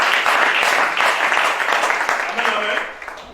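Church congregation applauding during a French-language sermon, a dense, steady wash of clapping that fills the space for several seconds, with voices mixed in beneath.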